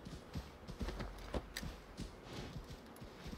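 Horse hooves from the video game Assassin's Creed Valhalla, a string of soft, fairly regular thuds at a moderate trot over a steady in-game ambient background, quiet and fairly close.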